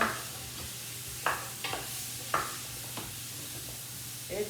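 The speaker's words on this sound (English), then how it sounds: "I just want to cover all these veggies, let it cook a little bit in oil." Vegetables sizzle in oil in a pot for squash soup, a soft steady frying hiss broken by several brief scraping stirs of a utensil.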